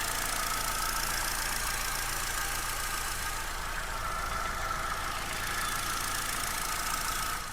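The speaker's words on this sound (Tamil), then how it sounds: "இப்போ இந்த வண்டியோட இன்ஜின் சவுண்ட் எப்படி இருக்குன்றதை மைக்கை பக்கத்தில் வச்சு காட்டுறேன்" A 2010 Hyundai i10 petrol automatic idles steadily with the microphone held close to the engine, giving a continuous, even drone with no talk.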